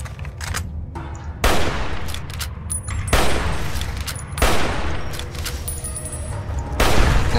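A hunting rifle fires in Fallout New Vegas, four or five loud, sharp shots spaced about a second and a half apart, each leaving a rumbling decay, close and dominant.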